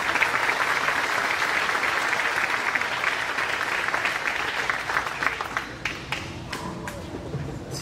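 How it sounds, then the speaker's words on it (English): Sustained applause from a high school graduation audience fills the hall, steady and dense at first, then thinning out toward the end, with some voices faintly underneath. "So give a round of applause."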